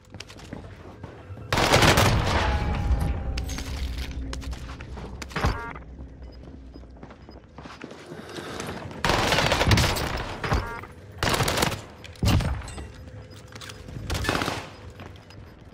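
Loud automatic gunfire in a Call of Duty Rebirth Island match, rapid bursts of shots repeating several times with short gaps between them and mechanical clicks in the quieter moments.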